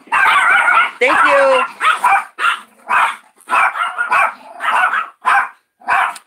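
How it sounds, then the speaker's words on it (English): A dog barks and yips repeatedly up close in sharp bursts, with brief whimpering and a voice speaking briefly between the barks. "Sorry about the barking."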